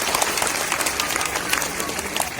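Crowd applause for a police dog squad's performance at an Uttarakhand Police state foundation day event, a dense, steady clapping from many people that lasts the whole moment, with an announcer's voice mixed in.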